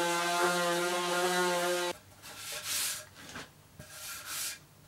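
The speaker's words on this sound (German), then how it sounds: "Und wenn der Kit dann eingetrocknet ist, dann einfach noch einmal kurz drüber schleifen" Dried wood filler is sanded on a Swiss stone pine bread box. A steady tonal hum stops and a few close, rough rubbing strokes follow.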